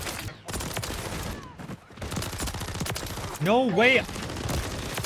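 Rapid full-auto gunfire from a Renetti pistol fitted with a conversion kit in Modern Warfare 3, dense cracking bursts running through the whole stretch, with a short spoken exclamation over the shooting.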